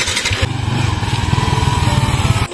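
A motorcycle engine runs close by, loud and steady with a throbbing pulse for about two seconds, then cuts off abruptly near the end.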